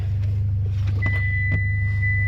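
A Mitsubishi Lancer Ralliart/Evolution X engine idles with a loud, steady low hum close by, with a few brief clicks and a thin electronic tone that starts partway through and holds to the end.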